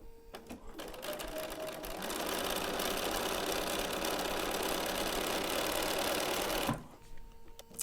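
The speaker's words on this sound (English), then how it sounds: "I like to sew just a scant 1/4 inch." A sewing machine stitches a scant quarter-inch quilting seam, a fast, steady whirring hum that speeds up after a couple of seconds and holds for about five seconds before stopping abruptly. Some faint handling noise comes before and after.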